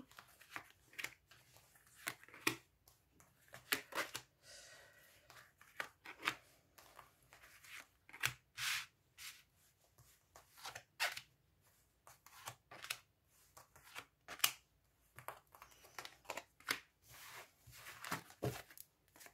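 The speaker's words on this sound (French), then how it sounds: "on va étaler les cartes. Je vais vous faire le tirage." Tarot cards being shuffled and spread out on a table for a reading, quiet close bursts of riffling and sliding card sounds coming in uneven bunches with short pauses between.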